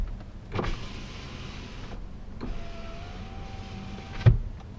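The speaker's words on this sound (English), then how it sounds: "And I'll roll down each window so you can kind of get an idea" Car power windows rolling down one after another, each a steady electric motor whine lasting a second or two, ending with a soft thump, heard from inside the car.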